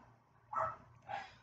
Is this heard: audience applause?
no